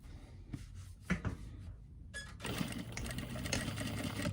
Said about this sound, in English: you would go on your machine, you would sew from here, and you come down here